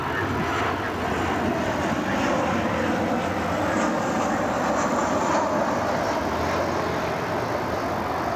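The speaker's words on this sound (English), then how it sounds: "Delta 2750 cleared to take off for Atlanta." A Delta airliner takes off from the runway at Cleveland Hopkins airport, a loud, continuous broadband engine roar that holds steady throughout at close range.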